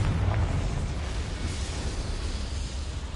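Confringo fire spell explosion in Hogwarts Legacy, a loud, sustained rumbling blast with a fiery roar that stays dense and close for a few seconds, no talking.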